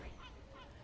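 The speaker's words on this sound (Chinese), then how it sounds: "哎呀，这海鸥叫！" A seagull calls near a seaside pier at New Brighton in a brief, faint squawk over wind and background noise.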